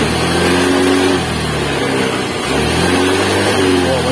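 A motorcycle engine revs close by after a regulator replacement, with a loud continuous drone that rises and falls as the throttle opens twice. No one speaks over it.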